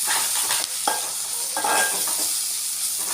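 Freshly pounded ginger garlic paste stirred and frying with onions for a plain biryani, a loud continuous sizzle with a few spoon scrapes, close and alone.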